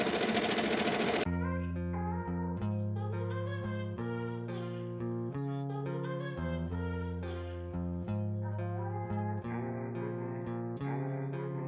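A single-needle embroidery machine stitches a towel, giving a steady mechanical whir with shifting, pitched motor tones that step up and down; the sound is quiet, with no talking.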